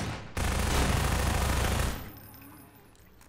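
Sustained burst of automatic gunfire from a weapon in Half-Life 2 Episode One, loud and continuous for about a second and a half before cutting off into quieter game ambience.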